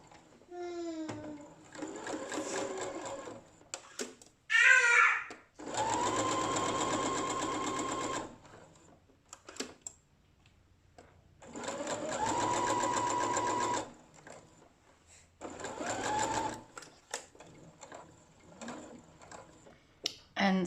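A sewing machine stitches a bra cup seam, starting at the bottom of the cup with a back stitch, in several steady whirring runs with brief pauses and clicks between them.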